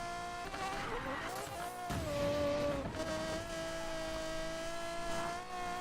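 An Aston Martin Vulcan V12 race car engine in Need for Speed Payback drones and revs steadily, pitch shifting through gear changes, with some talking underneath.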